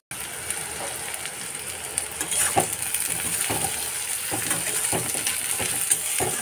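Eggplant and onion fry with green chili in a pan, a steady loud sizzle broken by repeated scraping clicks of stirring, with no talking.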